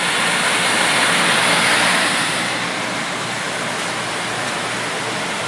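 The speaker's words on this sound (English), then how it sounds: "Tunnel is currently in operation." A Weldotron heat shrink tunnel runs with its conveyor and heater blower going, giving a steady, loud, close rushing hiss of air that eases slightly partway through and holds constant.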